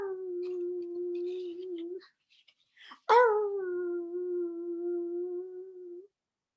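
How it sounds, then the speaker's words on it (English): Puppies let out a long, steady howling cry, then after a short gap a sharp yelp leads into another sustained howl. The sound is clear and close, with no talk over it. "So the puppies started to cry."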